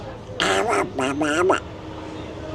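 Someone speaks in a squawky, quacking Donald Duck voice, imitating a cartoon duck in three short nasal bursts, then falls quiet.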